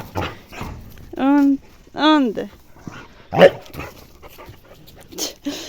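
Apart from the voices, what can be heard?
dog barking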